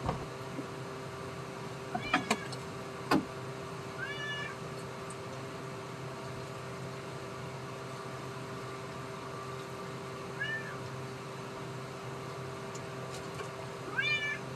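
A cat on a farm meows several times, short and fairly faint, spread out over a quiet room with a steady low hum in the background.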